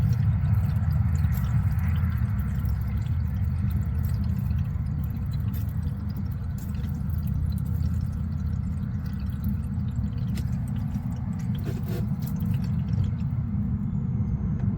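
Water drains from RV plumbing in a steady low gurgling rush with soft drips, continuous and close for about fifteen seconds, no talking.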